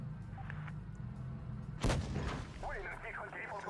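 A tank cannon firing a HEAT round in World of Tanks Blitz, a single heavy boom in the middle over a steady engine rumble, with a player talking quietly under the game sounds.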